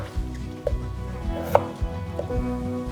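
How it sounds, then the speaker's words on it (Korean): A kitchen knife chops potatoes and vegetables on a cutting board while making pork gochujang stew. The chops come close and crisp, in an irregular run of several strikes with no talking. "그래서 이렇게 물기 빼놓고 그다음에 이제 감자하고 채소 먼저 썰어볼게요."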